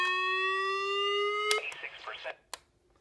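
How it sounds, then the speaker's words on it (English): A loud, steady electronic test siren from a Midland WR-10 weather radio blares for about a second and a half, then stops, followed by a few clattering knocks and a sharp click. "we'll hear the test siren"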